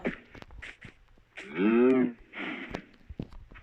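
A Minecraft cow gives one clear, drawn-out moo, with short soft rustles and clicks of game sounds before and after it.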